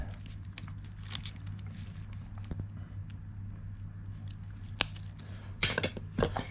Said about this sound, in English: So I'll just go ahead and cut one off here.